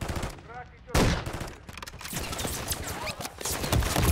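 Dense video game gunfire from Modern Warfare III, with rapid bursts and overlapping shots that are loud and continuous, while someone speaks over the action.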